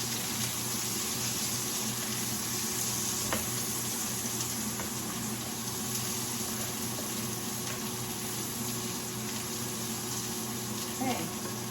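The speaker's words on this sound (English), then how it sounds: "So we're just going to stir these around." Sliced radishes frying in a pan as they are stirred around, an even, continuous sizzle that stays close and steady throughout, with a faint scrape near the end.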